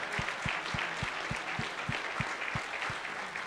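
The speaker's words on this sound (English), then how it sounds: "Let's give them another round of applause." Audience applause at a church service, a dense wash of clapping with a faint regular low beat running underneath, steady and moderately distant throughout.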